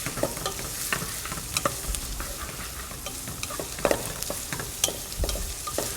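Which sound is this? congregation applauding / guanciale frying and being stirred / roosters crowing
guanciale frying and being stirred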